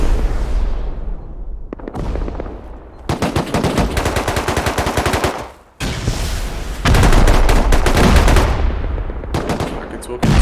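Loud automatic gunfire in the survival game Rust during a 6v6 base raid tournament, with dense rapid bursts crackling almost continuously across the clip and short gaps between volleys.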